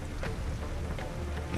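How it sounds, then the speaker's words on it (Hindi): Torrential downpour over Gokul in an animated Hindi telling of the Govardhan story, a steady, dense rain hiss with low rumbling underneath, heard alone without any voices. "क्रोध में आकर पूरे गोकुल में प्रलयदायक मूसलाधार बारिश शुरू कर दी"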